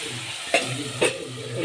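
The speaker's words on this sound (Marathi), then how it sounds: "आता मस्तपैकी फोडणी दिली." Tempering sizzles in a pan for a dry broad bean pod curry, a steady low fry broken by two quick scraping stirs in close succession.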